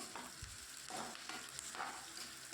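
Shallots, garlic and curry leaves sauté in a pan for murungaikai sambar, with soft frying crackle and a few stirring scrapes, quiet and close, no voices.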